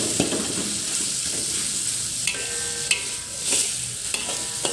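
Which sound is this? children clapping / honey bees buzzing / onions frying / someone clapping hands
onions frying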